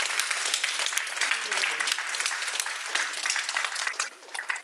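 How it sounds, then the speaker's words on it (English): Audience applause closing a university lecture on Creole language politics, close, crisp clapping from a modest crowd that runs steadily and thins out near the end, with faint voices underneath. "A huge round of applause."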